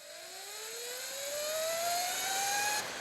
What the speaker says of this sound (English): If we get to full throttle, it cuts out.